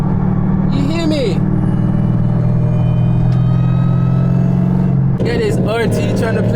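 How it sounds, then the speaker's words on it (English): A Dodge Hellcat engine at an Atlanta car meet holds a loud, steady low rumble, with people talking over it near the start and again near the end. "He's trying to make his car loud."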